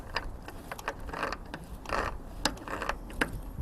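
Threads of a lightbar mount being unscrewed by hand, giving a run of soft mechanical clicks and scrapes at an uneven rhythm, close by and fairly quiet with no talking.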